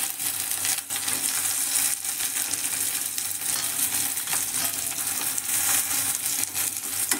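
Peas and carrots frying in a pan, a dense, continuous hiss of sizzling with occasional stirring scrapes throughout, close and fairly loud, no speech.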